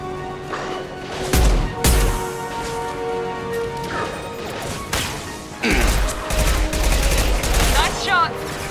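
Repeated gunfire bursts and impacts from the video game Mass Effect 2 come as loud clusters of shots and crashes with combat effects in between, and a voice speaks briefly.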